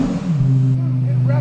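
A Lexus LFA supercar engine revs loudly up close to about 4,000 rpm, its pitch climbing quickly before dropping back in a brief, sharp burst.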